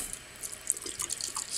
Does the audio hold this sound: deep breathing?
no